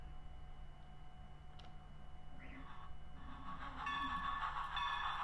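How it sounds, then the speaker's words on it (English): A model-railroad bell sound module plays its steam engine effect: faint hissing and chuffing build up over a constant low hum, growing busier and louder toward the end. "and this is the steam engine."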